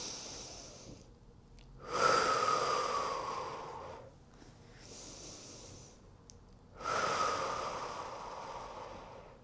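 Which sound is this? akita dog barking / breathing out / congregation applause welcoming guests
breathing out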